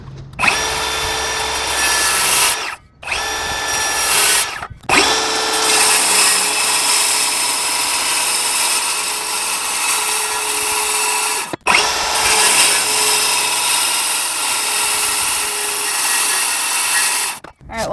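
A power saw plunge-cuts into wood for a built-in storage bench, its loud steady whine running in long stretches that are broken by a few brief stops.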